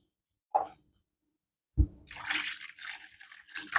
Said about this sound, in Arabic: هلا بنزيده مي